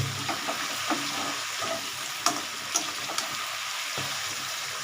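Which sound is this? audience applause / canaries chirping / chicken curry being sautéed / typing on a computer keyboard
chicken curry being sautéed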